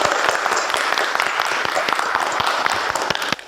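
Students in a vocational automotive classroom applaud together, a dense, steady burst of many hands clapping at close range that fades out near the end.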